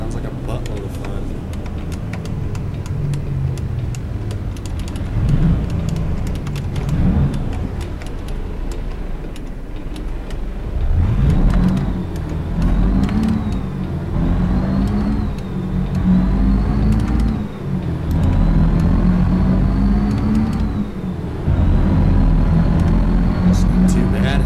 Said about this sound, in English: Driving a semi-truck through Las Vegas sounds like a buttload of fun.